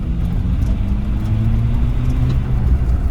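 Kilow electric microcar accelerating along a small country road, a steady loud rumbling drive with a low motor tone rising gradually throughout, recorded close from inside.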